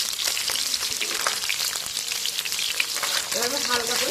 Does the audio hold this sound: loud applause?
no